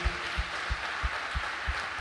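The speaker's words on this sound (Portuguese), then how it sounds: "Se você crê, dê um aplauso de louvor ao Senhor" A church congregation applauds in praise, a broad wash of clapping with a steady rhythmic beat of low thumps running under it.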